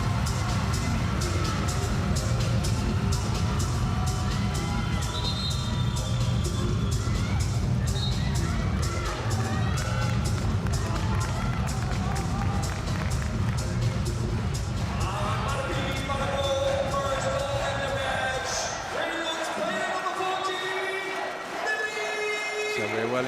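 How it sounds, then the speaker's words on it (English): Greenland fans cheering at a women's world championship handball match against Korea, a steady crowd roar under continuous commentary, with the ball bouncing on court and a few sharp whistles. "the Greenland fans on their feet, cheering on their team"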